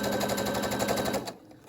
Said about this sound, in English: I'm going to sew as tight up into this corner as I can